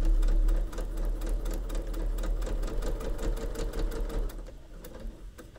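A sewing machine runs a line of stitches through pinned fabric pieces for a mat, a close, steady mechanical whir with fast needle ticking that stops briefly before the end.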